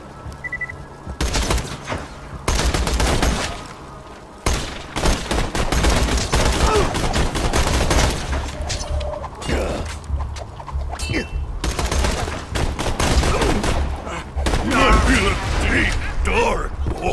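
Rapid bursts of automatic gunfire and weapon mechanisms from the Borderlands 2 video game, loud and dense across the whole stretch with short gaps, mixed with a voice talking between volleys.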